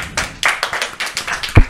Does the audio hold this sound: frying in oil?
no